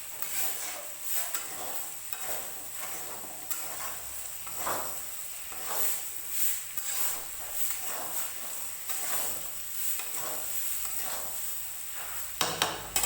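A spoon stirs tomatoes and salt in a hot pan for Nepali-style chicken with rai sag, giving soft repeated scraping strokes over a faint steady sizzle, with no talk.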